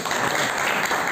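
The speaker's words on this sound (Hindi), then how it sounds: "आप दोनों के लिए जोरदार ताली बजाएं।" An audience at a school activity session claps together in dense, steady applause, loud and continuous for a brief moment with no speech over it.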